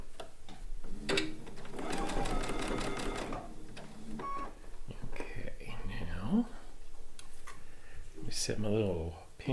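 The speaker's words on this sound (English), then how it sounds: "now we're going to sew the blocks together" Sewing machine stitching quilt blocks together for a blue and white quilt top, a close rapid mechanical whir running in stretches, with whispered talk over it.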